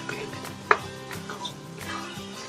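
A spatula scrapes and clinks against a pan while chicken fried rice is stirred, with one sharp metallic knock and softer rhythmic scraping under a faint sizzle.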